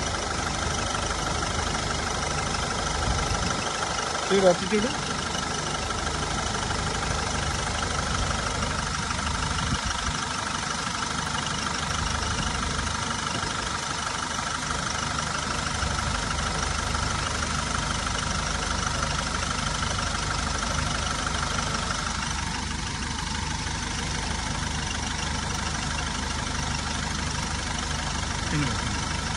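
Engine of a 2017 tempo van with 2.7 lakh km driven idles steadily after a carbon cleaner treatment, a continuous low rumble running throughout with someone speaking briefly over it.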